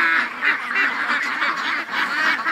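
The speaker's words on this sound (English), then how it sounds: "That's a mess of ducks" A large crowd of ducks packed in a pen quacks and honks together in a loud, continuous, overlapping clamor, close and steady throughout.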